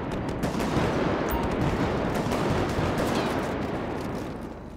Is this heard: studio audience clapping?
no